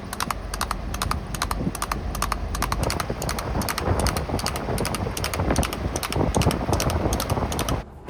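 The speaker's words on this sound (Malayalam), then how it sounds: "കുതിരവണ്ടിയെ എന്നാ സ്പീഡിലാണ് വരുന്നത് നോക്കി." A horse-drawn cart on a road in Rajasthan or Haryana goes by at speed, its hooves beating a rapid, even clip-clop close by under steady wind rumble, cutting off abruptly near the end.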